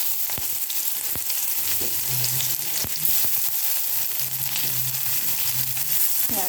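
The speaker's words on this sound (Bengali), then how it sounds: "তারপরে আমি দিয়ে দিচ্ছি পেঁয়াজ কুচি।" Chopped onion sizzles loudly in hot oil left from frying fish, along with five-spice seeds and dried red chilli, a steady close crackle broken by sharp clicks of stirring.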